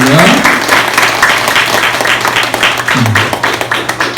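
A church congregation claps together through the whole stretch, a loud, dense, continuous patter of many hands close by, with a brief murmur of voices underneath.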